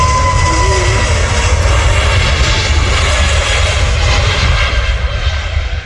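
Airliner taking off at Manchester Airport, a loud, continuous jet engine roar filling the air from nearby, holding steady before easing slightly at the end.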